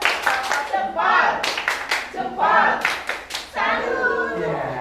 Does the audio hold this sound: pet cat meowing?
no